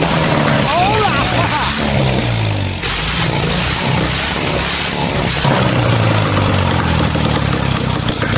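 An old BMW R71 clone motorcycle engine, abandoned for 45 years, fires up and runs with a close, rough, loud rumble, while a voice speaks over it throughout.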